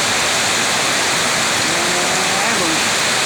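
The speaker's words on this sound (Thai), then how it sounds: "ฝนตกมาแล้วก็ลมฝนตกแน่ครับทั้งฝนทั้งลมมาพร้อมกันเลยแบบนี้" Heavy rain with strong gusty wind in Nong Hong district, Thailand, makes a loud, dense, unbroken roar that stays steady throughout.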